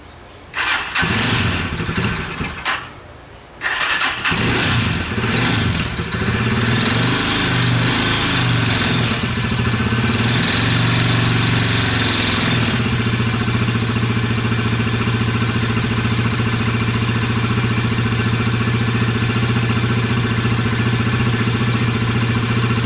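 A Skygo 150 King scooter engine sputters, catches after a brief pause, then settles into a loud, steady idle that keeps running close by.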